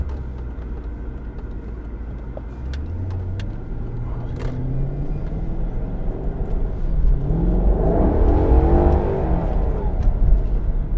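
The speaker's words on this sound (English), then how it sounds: "I hope my mic can pick up how good this car sounds" A Ferrari sports car engine heard from inside, rumbling low and then climbing in pitch through a couple of rising gear pulls, growing louder and harsher as it accelerates, with no talk.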